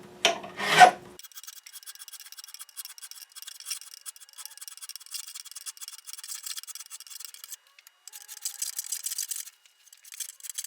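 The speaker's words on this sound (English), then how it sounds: "Got my trusty Hosco crowning files." Hosco crowning files rasping across guitar frets during a fret recrowning job, a steady scratchy back-and-forth filing that runs close and continuous after a brief louder knock at the start, with no voices.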